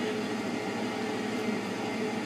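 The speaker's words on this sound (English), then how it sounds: "draft blower just turned on for the exhaust" A boiler's exhaust draft blower runs with a steady, even rushing whoosh for the whole stretch, close and constant with no breaks.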